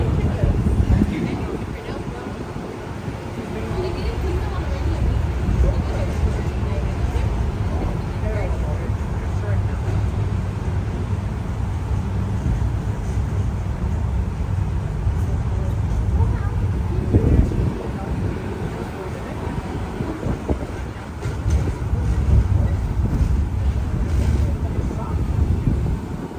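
A Disneyland tram rolling along, a steady low rumble with wind buffeting the microphone throughout, continuous and fairly loud, with a faint announcement voice underneath.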